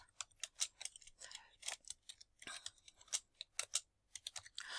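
Rapid clicks of fingers pressing keys on a calculator keypad as a sum is entered, irregular bursts of taps close and fairly quiet, with no voice.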